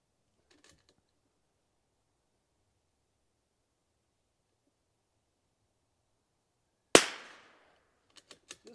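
A single sharp gunshot cracks out at a 2-inch spinner target during precision shooting training, followed by a few quick faint metallic clinks, after a long near-silence.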